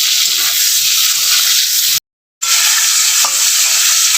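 Raw tomatoes fry and are stirred in a pan, making a loud, constant hiss of sizzling oil broken by one brief moment of silence.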